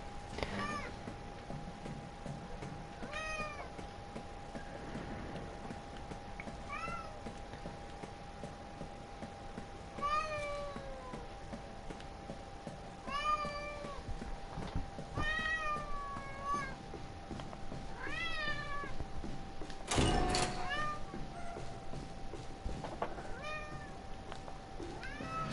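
A cat meows again and again, its rising and falling cries spread across a noisy background with a steady electronic hum running underneath throughout.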